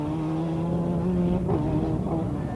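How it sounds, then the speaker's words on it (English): A two-wheel-drive Cosworth rally car at speed on a stage of the 1992 Donegal International Rally, its engine holding a loud, steady, high-revving drone throughout with a slight dip and recovery midway. "You can't imagine a 2-wheel drive Cosworth going any faster."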